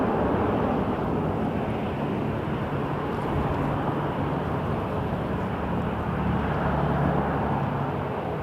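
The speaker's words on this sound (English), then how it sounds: "This is Jazz Aviation taking off now to Columbus, Ohio, an RJ900." A Jazz Aviation RJ900 jet taking off from Toronto Pearson, a steady broad roar of jet engines heard from a distance with wind noise and no talking.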